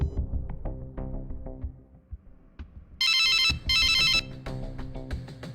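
A mobile phone ringtone plays for an outgoing call, two loud bright electronic bursts of about a second each, following a stretch of tonal background music.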